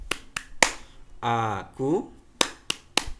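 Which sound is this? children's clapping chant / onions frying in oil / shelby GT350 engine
children's clapping chant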